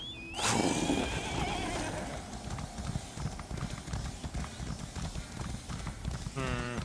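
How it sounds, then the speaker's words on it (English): A horse in a video game whinnies, then hooves clip-clop in a steady galloping rhythm, ending with another neigh. "I'll just ride my horse back, I guess."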